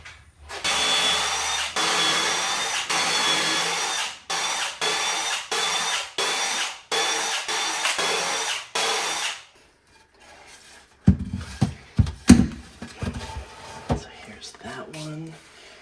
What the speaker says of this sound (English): I'm going to be doing pocket holes.